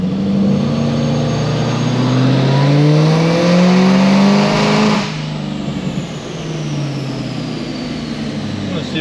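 A supercharged LT4 V8 in a Chevrolet Camaro ZL1 with headers, air intake, ported blower and methanol injection, revving hard through a dyno pull, loud and rising for about five seconds before dropping to a steadier drone.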